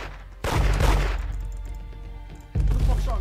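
Gunfire in the Roblox game Da Hood: two loud, broadband bursts of shots, the first a sustained barrage of about two seconds and the second erupting abruptly near the end, with a quieter droning tail between them.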